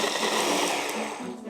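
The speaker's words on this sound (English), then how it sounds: "Use a blender or processor and add a good helping of icing sugar." A blender or food processor whirs steadily, close and loud, pureeing raspberries with a good helping of icing sugar into a fruit coulis, with no talk over the motor.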